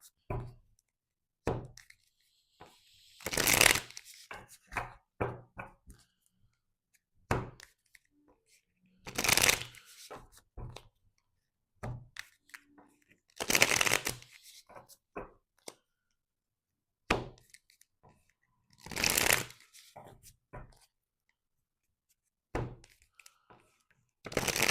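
Tarot cards shuffled in bursts, several loud riffling sweeps separated by quiet gaps and scattered soft taps and knocks as the deck is handled, close and without talk.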